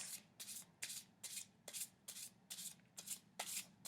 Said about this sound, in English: I'm going to shuffle briefly and draw one card each for the zodiac signs.